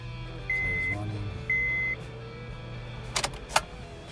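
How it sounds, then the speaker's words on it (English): A car engine idles steadily with a low hum after being started with a new flip key. Two short electronic beeps sound over it, and a couple of sharp clicks follow near the end. "Car is running."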